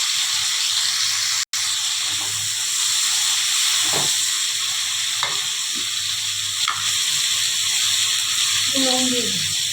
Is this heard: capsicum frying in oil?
yes